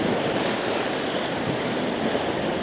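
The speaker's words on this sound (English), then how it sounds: "The tide is coming in." Sea waves wash in with the incoming tide at Botany Bay in Kent, forming a steady, loud, unbroken roar of surf with no voices.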